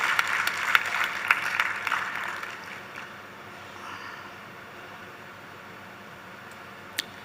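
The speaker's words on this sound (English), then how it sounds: "Let's give him a round of applause." Audience at an international AIDS conference plenary session claps in a short burst that fades after about three seconds, leaving quiet room tone with a few faint ticks and one sharp knock near the end.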